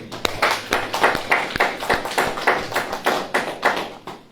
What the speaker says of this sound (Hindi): ताली नहीं बजेगी?